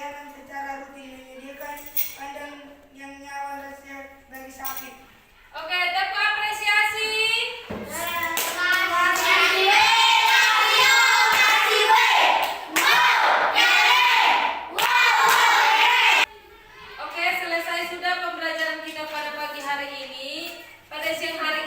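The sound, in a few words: children clapping in a classroom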